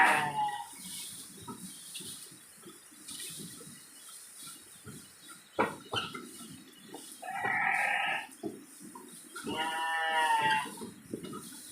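Sheep and other livestock call out on a farm with sheep and goats, several loud drawn-out bleats rising over a low murmur of people talking and shuffling nearby.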